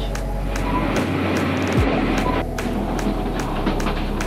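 Inside a moving carriage of the Rangpur Express in Bangladesh, a loud continuous rumble fills the space, with regular rhythmic clacks of wheels over rail joints and a brief low tone shift partway through.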